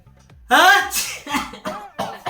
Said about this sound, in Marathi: ही शिंक कुठपर्यंत जाते तुम्हाला माहिती आहे